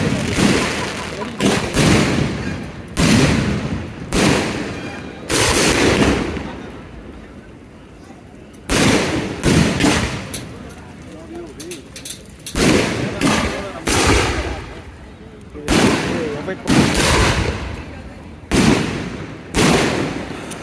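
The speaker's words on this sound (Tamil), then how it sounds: "என்னோட வாழ்க்கையிலேயே இவ்வளோ பிரம்மாண்டமான இவ்வளோ பைப் வச்சு இவ்வளோ வான வேடிக்கை பார்த்து" Fireworks fired from many pipes at a village festival with kavadi dancing, loud bursts and booming volleys coming in clusters, with crackling between them and shouting and chatter from a crowd around them.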